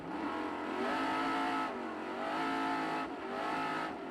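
A 2003-champion Pro 4 off-road race truck engine at a 2007 CORR race roars hard, rising in pitch through repeated revving surges with brief dips between gear changes, loud and continuous.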